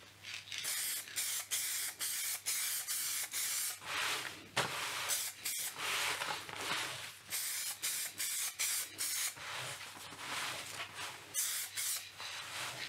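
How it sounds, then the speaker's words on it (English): Spray paint from an aerosol can hisses onto a plastic Kriesler Newscaster radio case in short repeated bursts, close and steady with brief gaps between passes. "give it a spray paint, and these paints go straight on the plastic"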